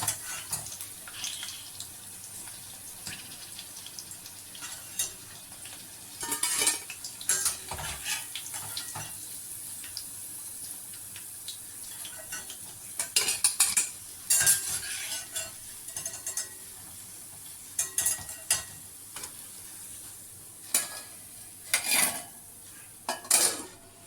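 Popcorn chicken pieces deep-frying in oil bubble steadily while a metal utensil clinks and scrapes intermittently against the pan as pieces are lifted out, with no talking.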